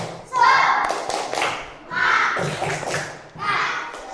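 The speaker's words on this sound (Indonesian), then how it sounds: "marilah kita awali pembelajaran hari ini dengan tepuk semangat bersama-sama ya" Schoolchildren in a classroom do a 'tepuk semangat' rhythmic clapping routine together, with loud group chanting voices over thumping claps in three bursts.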